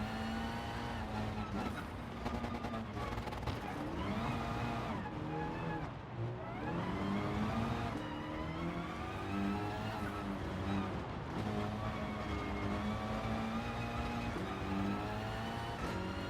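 Rally race car in GT Sport on the Rally Ranch dirt course, engine revving steadily and rising through gears, with tyres sliding through corners and continuous loud motor whine throughout.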